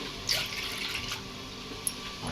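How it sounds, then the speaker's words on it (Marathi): Cold water is poured into glasses for mango panha in a steady splashing stream, with a couple of sharper splashes and clinks near the end. "इथे चार ग्लास पाणी घेते मी गार पाणी घ्यायचं आहे"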